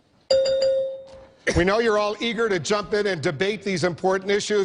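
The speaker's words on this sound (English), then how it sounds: "as the candidates requested, a bell will sound like this" A single debate timer bell rings clearly at a CNN Republican presidential debate, a sustained tone that fades before a moderator begins speaking over the room.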